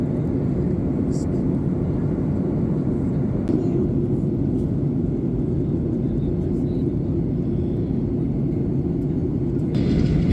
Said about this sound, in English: our aircraft is making its final approach into Puerto Plata, Dominican Republic